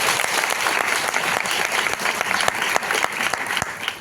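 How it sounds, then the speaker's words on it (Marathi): Loud, dense applause from an audience greeting new guests, a steady wash of overlapping claps that holds for the whole stretch. "नवीन गेस्टसाठी एकदा जोरदार टाळ्या झाल्या पाहिजे"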